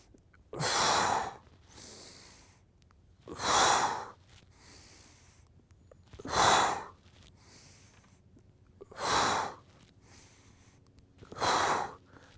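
Deep rhythmic breaths during the second of the Five Tibetan Rites exercises, five strong exhales or inhales spaced evenly about every three seconds, close and clear against quiet.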